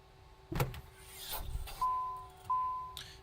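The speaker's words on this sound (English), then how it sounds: "let's go get these doors open for you" Cabin doors of a Citation CJ3+ business jet opening in Microsoft Flight Simulator, parked after landing: a quiet mechanical click, then a motorised whir and two steady electric hums in separate stretches.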